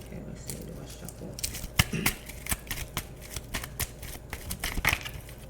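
Tarot cards are shuffled in a quick run of crisp riffling snaps and flicks, close by and fairly soft over a quiet background.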